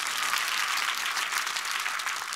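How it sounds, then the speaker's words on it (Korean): A church congregation at a sermon applauds steadily and fairly loudly for a couple of seconds, a dense even patter of many hands with no voices on top. "남자 위해서 박수 좀 쳐줘요."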